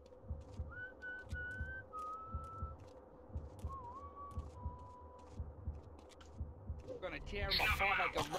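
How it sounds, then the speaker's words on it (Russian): A faint, thin whistle from the video game Manhunt glides through a few sustained tones over a low rhythmic throb, followed by a louder burst of noise at the end. "Я еще слышу свист."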